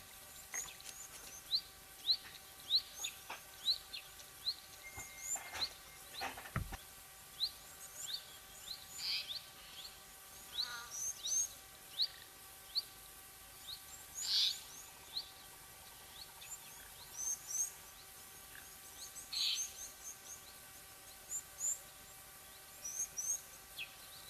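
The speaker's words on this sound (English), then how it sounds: "Your typical bushveld birds that you could expect to see at a waterhole, at this time of day anyway." Bushveld birds call around a waterhole, laughing doves among them, giving frequent short chirps and twitters scattered across the whole stretch, fairly faint and distant, with a few louder calls near the middle.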